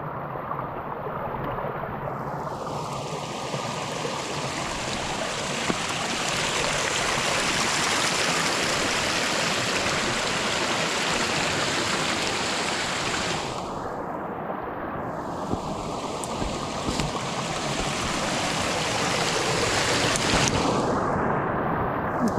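Continuous rushing water roars steadily throughout, a broad hiss of a stream in the Wichita Mountains tumbling over small cascades on a windless day, close and unbroken, with no voices.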